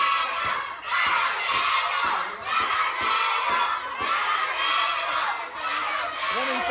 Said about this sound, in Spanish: ya llevamos 2 minutos sin lucha y puro grito de acarreado